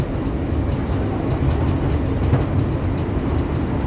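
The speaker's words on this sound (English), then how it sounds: "Back on continuous welded rail." A passenger train runs on continuous welded rail near Hazel Grove on the line toward Buxton, giving a steady, smooth, close rolling rumble without distinct rail-joint clicks, no voices.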